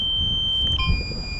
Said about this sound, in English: Oh no, beeping starting now.